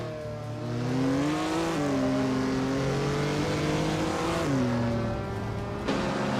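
A 1963 Jaguar lightweight race car in a video game race gives a loud, continuous engine roar, the pitch climbing and dropping with repeated gear shifts and blending with other cars nearby.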